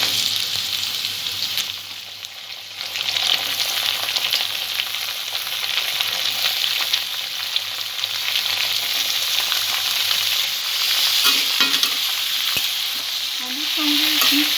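Bottle gourd drops into a pan of potatoes and fish head over medium-low to medium gas flame, giving a loud, continuous close sizzle with stirring scrapes and no voices.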